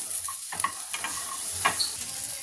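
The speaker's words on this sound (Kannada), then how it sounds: "ಈರುಳ್ಳಿ ಮತ್ತು ಟೊಮೊಟೊ ಹಾಕ್ಬಿಡೋಣ ನೋಡಿ ಇವನ್ನು ಒಂದೇ ಸ್ಪೂನ್ ಎಣ್ಣೆ ಹಾಕಿ ಹುರ್ಕೊಂಡ್ಬಿಡೋಣ ಇವನ್ನ" Onion and tomato frying in a spoonful of oil, a steady broadband sizzle with a few soft spoon stirs and scrapes near the pan.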